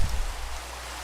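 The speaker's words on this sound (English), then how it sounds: "It's raining heavily." Heavy rain in the Pixelmon mod of Minecraft: a steady, dense hiss of falling water with a low rumble. It sounds a little louder at the start and then settles into an even wash, with no voices over it.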